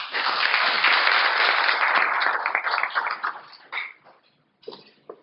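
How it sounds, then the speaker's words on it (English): An audience applauds the staff of the Bank of Namibia, a dense burst of clapping that thins into scattered claps and fades, then a short final flurry. "I would like you to give an applause to the staff of the bank"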